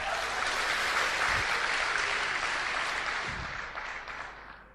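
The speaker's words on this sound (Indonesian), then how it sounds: "Mohon aplaus buat Ibu Linda bintang 8." An audience at a gathering applauds for a woman named Linda, a steady wash of clapping that holds and then gradually fades away.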